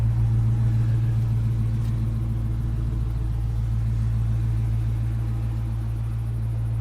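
A Dodge Challenger engine idles with a deep, steady rumble through the mufflers, loud and close, unchanging throughout with no talking.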